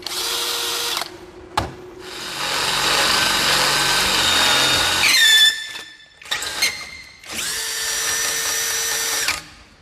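A cordless impact drill fitted with a large 10 mm bit bores through 10 mm thick steel, whining loudly in long sustained bursts broken by brief stops and squealing pitch shifts as the bit bites and releases, with no talking.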